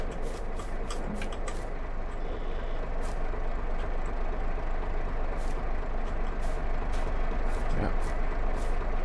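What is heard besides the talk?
truck manoeuvring to position a firewood trailer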